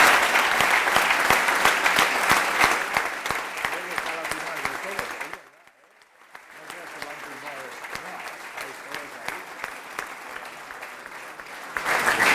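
Audience at a conference with Xavi clapping in sustained, dense applause, loud and continuous, briefly dropping away near the middle before resuming strongly, with voices faintly beneath.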